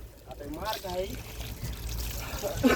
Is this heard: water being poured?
yes